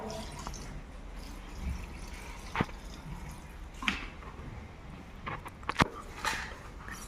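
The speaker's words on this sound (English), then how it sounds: "I pour the water." Water poured into a bucket of buried vegetable and fruit waste and soil for a biodegradability experiment, heard as faint, scattered splashes and drips over a low background hiss, with a few brief louder spatters.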